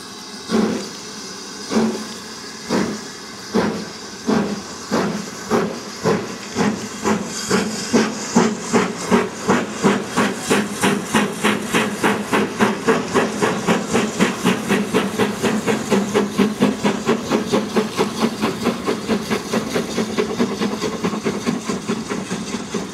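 Steam locomotive chuffing, starting with slow, spaced hissing bursts that quicken into a rapid, loud, continuous rhythm as the engine picks up speed.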